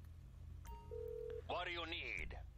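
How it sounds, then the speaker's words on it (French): A phone call is placed on an in-game phone in GTA 5 Online: a short electronic dial beep, then a warbling, rising-and-falling ring or call tone, heard over low background hum. "on va appeler Martin, on va faire une demande d'activité à Martin."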